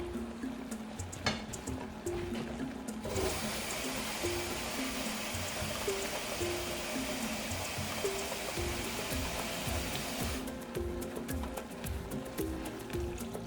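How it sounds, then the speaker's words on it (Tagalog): Water poured into a pot of sardine and misua noodle soup, a steady broadband rush of flowing liquid lasting about seven seconds, bracketed by quieter kitchen sounds and a faint voice at the start. "dagdagan ko na to siya ng tubig."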